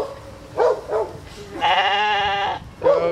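A goat at a house in Hyannis during an animal control raid bleats several times: two short calls, a long wavering cry, then another short bleat, fairly close and clear.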